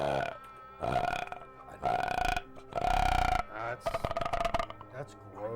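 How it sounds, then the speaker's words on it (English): A series of long, loud, drawn-out burps from men, several separate belches in a row with brief pauses between them, close to the microphone. "Those were mid-50 burps."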